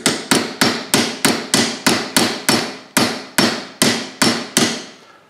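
A brass hammer taps a sight onto a Ruger 10/22 rifle in a steady series of about fourteen sharp, loud, close metallic strikes, each ringing briefly before the next.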